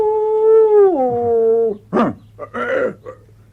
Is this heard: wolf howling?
yes